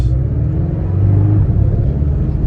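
A four-cylinder sports coupe engine rumbles low and steady from inside the cabin, a deep droning hum with slight rises in pitch.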